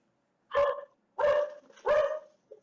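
Three loud, close dog barks in a quick sequence about half a second apart, with a short faint yip trailing after.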